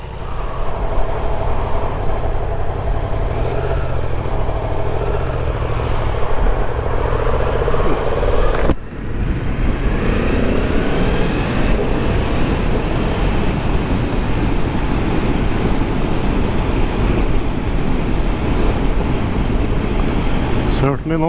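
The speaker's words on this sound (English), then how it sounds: "today I'm going to be test riding this new MT-10 for 2022" A 2022 Yamaha MT-10 motorcycle starts with a steady engine hum, then a sharp break gives way to a loud ride of rushing wind and engine roar that continues to the end.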